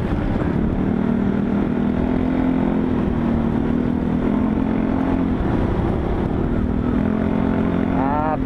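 A motorcycle rides along a road at night from Cavite to Bulacan, with a loud, steady engine drone and rushing wind throughout and no breaks.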